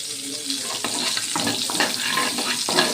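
Chopped garlic sizzling in hot oil, a steady bright hissing crackle with occasional louder spits and stirring clatter, close and continuous.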